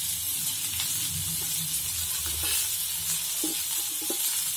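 Large onions sizzle steadily in a pan while being sautéed for a Tamil arai keerai tamarind masiyal, with occasional stirring scrapes and clinks over the constant frying hiss.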